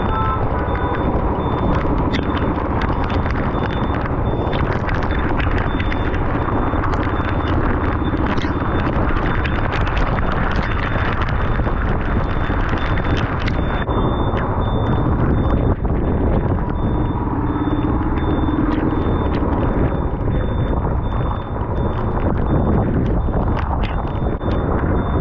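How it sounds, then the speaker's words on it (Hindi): Heavy rain and storm wind roar continuously over a motorcycle ride from Dehradun to Delhi, a loud buffeting wash with a faint steady tone underneath. "तूफान के साथ बारिश।"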